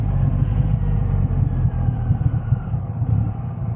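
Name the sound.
Triumph Rocket 3R motorcycle engine with loud exhaust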